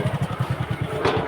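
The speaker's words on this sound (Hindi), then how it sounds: "देख सकते हैं बाइक को खेत में नचा रहा है।" A motorcycle is ridden around a village farm field, its engine thudding in a steady rapid pulse, near and fairly loud, with a brief rise in revs toward the end.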